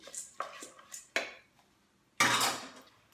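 A spoon clinks and scrapes against a bowl while dates and seeds are mixed, in a few separate close stirring strokes with pauses, ending in a longer scraping burst.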